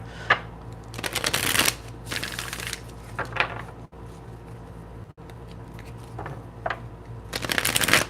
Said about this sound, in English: a slow, relaxing shuffle, little shuffle ASMR in the early morning